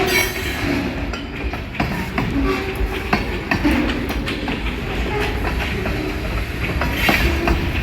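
A train rolls steadily past close by on the KRR line, with continuous loud rumble, wheel clatter and scattered metallic squeals and clicks throughout.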